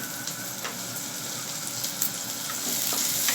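Onion lightly frying in a pan for restaurant-style paneer Manchurian, a steady close sizzle with faint crackles and a brief stirring scrape, growing slightly louder toward the end.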